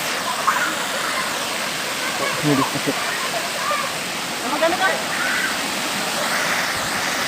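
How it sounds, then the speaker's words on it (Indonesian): Rushing water from Taipa waterfall in Tompobulu, Maros keeps up a constant loud hiss throughout, while a person speaks briefly over the roar. "saya sudah ada di air terjun Mas Sempok dah"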